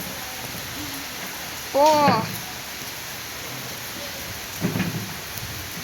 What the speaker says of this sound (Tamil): இந்த மழை ஃப்ளோட்டா இருக்கு